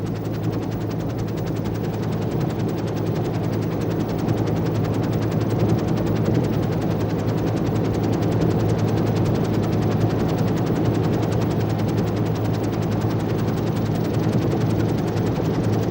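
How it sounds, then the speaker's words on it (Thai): A helicopter lands at an offshore petroleum drilling platform in the Gulf of Thailand, its rapid rotor chop pulsing steadily and loudly over a deep engine hum, continuing without pause. "เมื่อเฮลิคอปเตอร์พาหนะสำคัญร่อนลงจอด"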